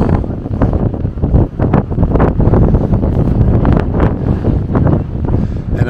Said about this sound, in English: And I seem to find always the spots where it's the most wind.